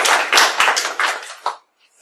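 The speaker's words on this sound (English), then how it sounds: "Thank you for the applause." Brief audience applause before a talk on securing agile development, a handful of close, distinct claps that thin out and stop after about a second and a half, leaving near silence.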